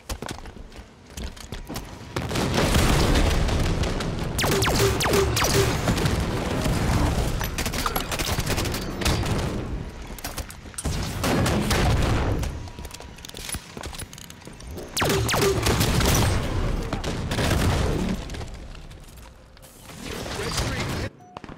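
Rocket launcher blasts and rapid gunfire in a Halo 5 Super Fiesta match come in repeated loud bursts of dense explosions and weapon fire, separated by brief lulls, with voices talking intermittently underneath.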